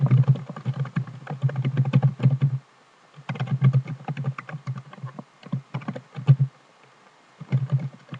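Computer keyboard typing of Java code in a plain text editor, rapid close clicking keystrokes in bursts with short pauses between.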